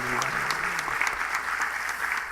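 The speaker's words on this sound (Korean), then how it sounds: "우리 하나님께 모든 감사와 박수 올리겠습니다" A church congregation at a Korean Full Gospel revival service applauds steadily, a dense, continuous wash of clapping from many hands without a break.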